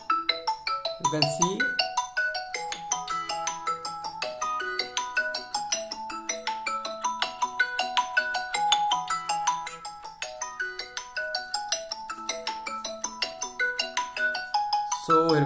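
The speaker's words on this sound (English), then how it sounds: "So if we go and ringtone, so you can see now it is at full volume." A Redmi Note 11 phone plays its melodic ringtone at full volume through stereo speakers, loud and continuous with bright repeating chime-like notes; a voice speaks briefly over it near the start.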